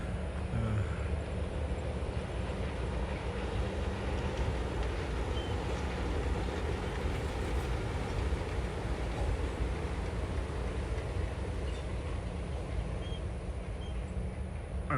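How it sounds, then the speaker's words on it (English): A Disney World monorail train glides past with a steady, broad whooshing rumble that holds loud and even for the whole stretch, without distinct clacks. "I like literally have to stop every time there's a monorail now"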